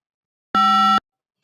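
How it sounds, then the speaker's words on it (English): A single steady DTMF telephone keypad tone, generated in MATLAB and played through speakers, sounds for about half a second: a clean dual-pitch electronic beep standing alone against silence. "MATLAB will actually play the DTMF tone to the speakers"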